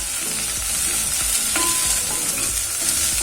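Chopped leek stirring and frying in a pan with ginger and garlic, a steady close sizzle broken by repeated scraping strokes of a utensil against the pan.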